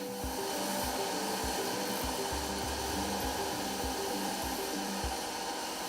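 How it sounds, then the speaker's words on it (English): Sanding machines smooth carved sculptures in a workshop, a loud continuous whir with steady tonal hum and repeated low thumps as pieces are worked. "use these sanding machines to smoothen the sculptures"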